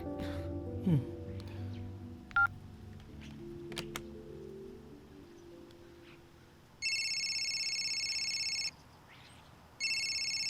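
A phone ringtone chimes in two electronic bursts after a few scattered clicks and taps in a quiet room.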